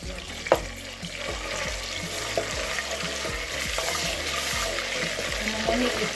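Momoni, a salted dried fish, sizzles and spits in hot oil for okra stew, a dense, close crackle with occasional sharp pops and utensil taps throughout.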